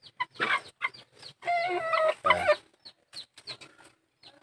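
Rhode Island Red hens, about 3 to 4 months old, cluck and murmur nearby in short, irregular bursts, with one longer drawn-out squawk in the middle, over a quiet background.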